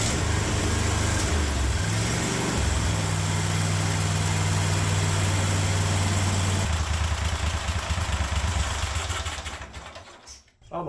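A Cub Cadet 1050 Hydro garden tractor engine idles loudly and close with a steady low rumble and hum, shifting pitch partway through before fading and cutting out near the end.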